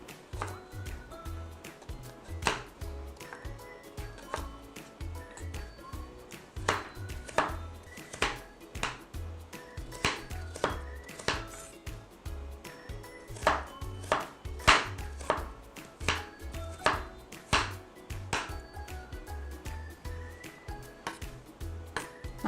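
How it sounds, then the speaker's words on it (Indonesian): Knife chopping carrots on a cutting board, a long run of crisp, fairly regular taps, close and clear at moderate volume with no talk over it. "Sekarang kita mau potong-potong wortelnya dulu."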